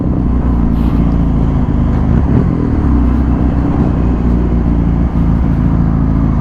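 Kawasaki retro motorcycle with about 3000 km on it, engine running on a test ride with a loud, steady low rumble and mild revving, heard up close with no talk.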